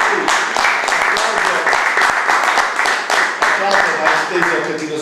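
Crowd applause with rhythmic clapping, loud and sustained throughout, with a voice speaking over it.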